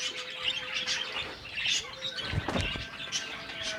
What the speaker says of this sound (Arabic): عصفور اهو ما شاء الله